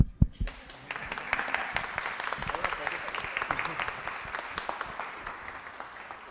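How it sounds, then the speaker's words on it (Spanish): A room full of people at a panel discussion applauding steadily, a dense patter of clapping that holds at an even level for several seconds after a brief opening thud. "Un aplauso al presidente."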